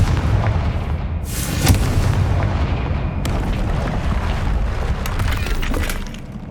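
In the Hogwarts Legacy video game, a Confringo fire spell goes off with a loud booming blast. Crackling, rumbling debris continues for several seconds before fading toward the end, with no talk.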